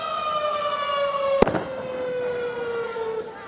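A civil defence air raid warning siren wails in a long sustained tone that slowly sinks in pitch, with one sharp bang cutting through partway.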